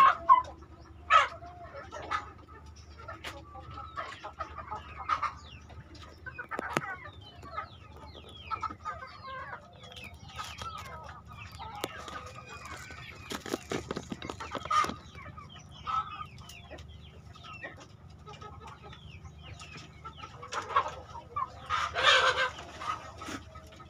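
Chickens cluck and scratch at organic feed of sprouts, mung beans, vegetables, pulp and coconut husk at a feed bank, with scattered nearby clucks and an occasional rooster crow over a low steady background.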